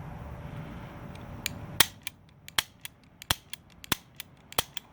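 CZ75 pistol dry-fired in double-action mode with a stiff trigger: a loud sharp snap preceded by low handling rustle, then a run of lighter irregular mechanical clicks from the action, close up with no talk.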